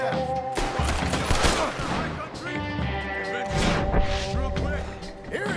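Red Dead Redemption 2 gunfight: a chaotic fusillade of gunshots and crashes layered with game music and voices, dense and continuous throughout.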